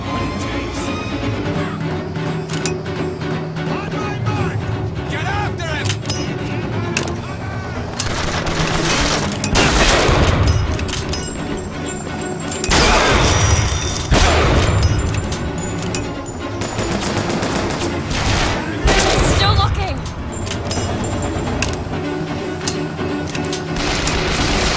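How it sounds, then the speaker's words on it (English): Rapid bursts of gunfire in the video game BioShock Infinite, loud and close, crackling in clustered volleys with heavier booming blasts over a busy game soundtrack. "That was a gun."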